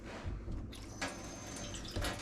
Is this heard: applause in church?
no